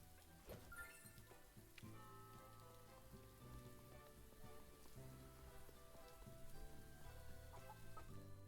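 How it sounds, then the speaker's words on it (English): Chickens cluck faintly in a stable in the game Little Goody Two Shoes, mixed low under steady music with no talk. "chickens in a stable."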